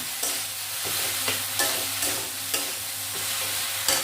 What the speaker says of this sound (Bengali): আদা রসুনের কাঁচা গন্ধটা না যাওয়া পর্যন্ত আমি লাগিয়ে দেবো